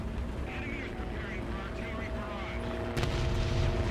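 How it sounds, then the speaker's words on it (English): A tank cannon firing in a tank battle video game: one heavy boom near the end, rising out of a steady engine rumble and hum, with faint background chatter. "Pop the top off the tank. Have a shot on that one."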